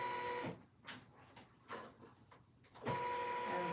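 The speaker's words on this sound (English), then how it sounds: "Okay, so I'm going to sew that again." A sewing machine stitches through vinyl for a bag, with two short bursts of loud mechanical whirring at the start and end and softer taps and handling sounds in between.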